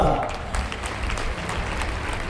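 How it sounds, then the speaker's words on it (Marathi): Dense, steady clapping from a large crowd at a religious festival gathering, continuous and fairly loud throughout. "जोरदार टाळ्या वाजवा"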